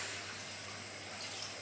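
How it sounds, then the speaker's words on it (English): Tap water pours steadily into a cooking pot for a second filling while making curry chicken with white rice, a continuous close hiss with a low hum underneath and no talk. "so I'm putting the second load of water in."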